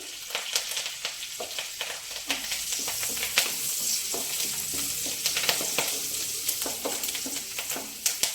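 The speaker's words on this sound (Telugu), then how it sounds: "వెల్లుల్లిపాయలు, అల్లం వేగిపోయిందండి" Garlic, ginger and curry leaves fry in hot oil in a pan, making a continuous close crackling sizzle broken by frequent sharp clicks and scrapes of a stirring spoon.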